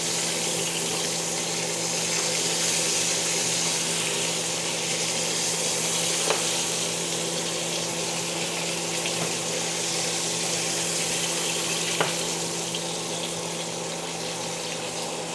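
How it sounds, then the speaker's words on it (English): Steak sizzling steadily in a hot pan while basted with herb garlic butter, a continuous broad frying hiss with a couple of faint clinks, no talking. "We'll just start basting it, keep basting it for 1 minute,"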